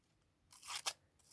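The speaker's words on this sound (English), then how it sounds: "I think these are my daughter's scissors" Scissors snip through paper for a stencil, a couple of quick, crisp cuts in an otherwise quiet room.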